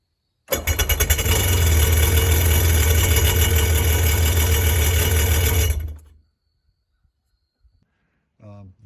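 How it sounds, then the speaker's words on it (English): An old jet ski engine cranks and runs loudly and steadily for about five seconds, then cuts off abruptly, leaving near silence with a few faint knocks and a brief voice at the end. "I've cranked it up already. I know it runs."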